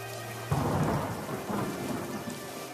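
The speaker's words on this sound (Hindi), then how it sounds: "बारिश थी कि रुकने का नाम तक नहीं ले रही थी" Heavy rain pours steadily while thunder rumbles in from a distance, a low roll that swells at first and then fades beneath the constant hiss of the downpour.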